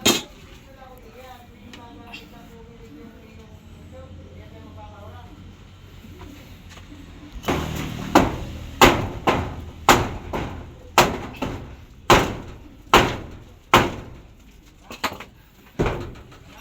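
A hammer pounding on wood while fixing up a house kitchen, about a dozen loud, sharp knocks at an uneven pace after a quieter stretch where a person speaks.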